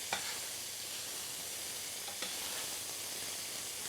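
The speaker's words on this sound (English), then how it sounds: "I'm going to add some onions in here" Thinly sliced onions fry in a pan with peppers, giving a steady, loud, close sizzle that runs unbroken throughout, with a couple of faint stirring ticks and no talking.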